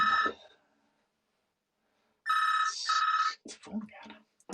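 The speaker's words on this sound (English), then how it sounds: "It's the phone again." An old-style telephone bell rings in two bursts in a phonebox, loud and close, followed by a short stretch of talk.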